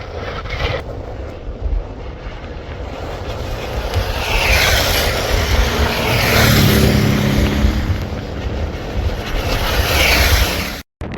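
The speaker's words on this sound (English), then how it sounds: "it's the windiest conditions I've ever ridden in" Strong outback wind roars and buffets around a motorcycle rider on an open road in central Australia. A steady, loud rushing noise builds and swells over about ten seconds, then cuts off abruptly.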